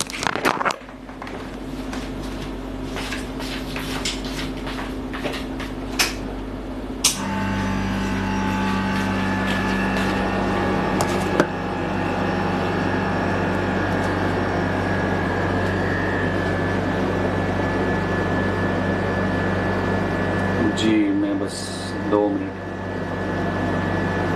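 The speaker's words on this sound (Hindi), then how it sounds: "मैं ज़रा एसी लगा लूँ, मुझे गर्मी लग रही है" A room air conditioner switches on about seven seconds in, its steady broadband whoosh and low hum rising abruptly, then running continuously and fairly loud to the end, briefly dipping near the close.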